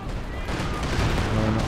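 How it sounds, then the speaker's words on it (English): White phosphorus barrage in Company of Heroes 2 on a winter map, a dense rumble of overlapping artillery booms and crackling fire, loud and continuous, with a commentator talking over it. "he's using the white phosphorus on the Comet"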